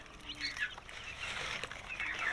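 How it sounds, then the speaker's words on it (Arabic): Chicken chicks and quail chicks kept together, their thin high peeping chirps overlapping in a soft, continuous chatter close by. "انا هسيبهم مع بعض كده كتاكيت الفراخ دي وكتاكيت السمان دي"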